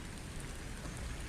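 Steady rain falls on a rainy night, a dense, continuous hiss and patter close by with no pauses and no voices over it.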